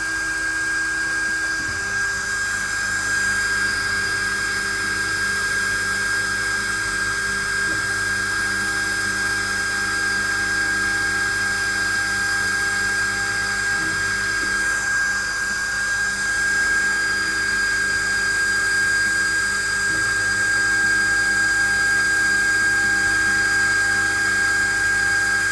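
A Hasse Cut2500s CNC machine fitted with an Opt laser moving its axes, giving a steady, high-pitched motor whine with a constant hum and a few brief shifts as the axes start and stop.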